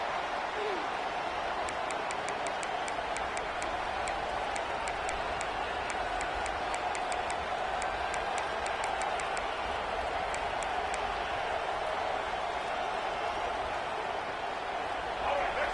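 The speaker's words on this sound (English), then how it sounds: "This crowd bringing an ear-splitting welcome to their visitors" Stadium crowd in EA Sports College Football 26 roaring in a steady, loud wash of cheering and clapping, with a play-by-play commentator talking over it.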